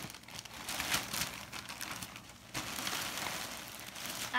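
A plastic lunch bag is cut open and handled, giving continuous close crinkling and crackling with a few sharper rustling bursts, and no talk over it.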